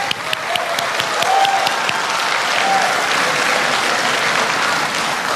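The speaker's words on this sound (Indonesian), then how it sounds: "Silakan tepuk tangan." An audience at the 2014 Indonesian presidential and vice-presidential debate breaks into loud, dense applause that fills the hall continuously from start to finish, with no voices heard over it.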